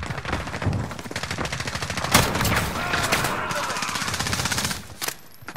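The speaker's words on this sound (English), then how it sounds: "Dude, I'm popping off with this shotgun." Shotgun and other gunfire in Call of Duty Modern Warfare multiplayer, a continuous loud barrage of rapid shots and blasts that fills the whole stretch before easing off at the end.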